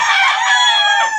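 A brief, loud crow from a young gamecock rooster (stag) about seven months old, one harmonic call close by with no talk.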